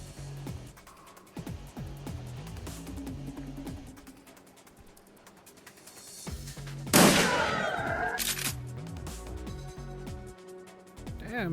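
Gunfire from the video game Shadowrun Returns, a cluster of sharp shots and impacts over game music and effects, with one loud burst in the middle and scattered quieter hits around it.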